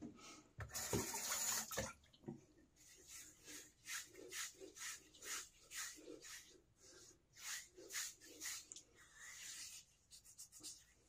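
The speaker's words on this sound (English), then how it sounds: "I'm going to put a little water on my head and see what I got left." Water is splashed and rubbed by hand onto a freshly shaved head, giving a run of soft, close wet pats and smears in an irregular rhythm, with one louder splash near the start.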